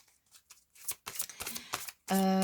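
Tarot cards shuffled by hand for a reading, heard as a series of soft, close riffling and sliding bursts that grow busier, ending in a sudden loud, steady tone.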